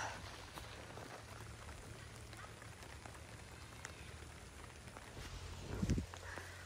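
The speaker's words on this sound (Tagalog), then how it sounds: "Umuulan naman guys." Rain falls steadily on a rural farm, a soft continuous patter of drops on surfaces with a brief louder thump near the end, no talking.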